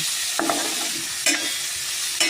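Garlic and tomato frying in a pan while being stirred: a constant bright sizzle broken by three sharp scraping stirs, close and alone.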